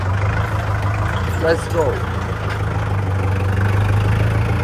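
A tractor engine idles steadily at a work site, a low continuous drone throughout, with a brief spoken exclamation over it.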